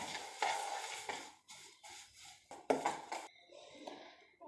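Semolina and egg batter with sugar being stirred in a bowl, several short scraping strokes with a clink of the utensil, close by and fairly quiet, no voices.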